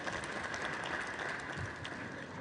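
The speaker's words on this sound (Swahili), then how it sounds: "Naomba tujipigie makofi tafadhali" Audience applause at a scientific water conference, a steady dense wash of clapping that holds evenly throughout with no voices above it.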